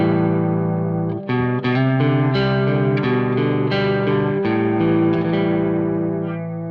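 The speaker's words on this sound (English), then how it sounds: "this is the Boss CE2W, which is a great little chorus pedal." An electric guitar plays chords through a Boss CE-2W chorus model on a Quad Cortex set to its bass type, giving a thick, gently shimmering distorted tone that rings out and fades, with no voices.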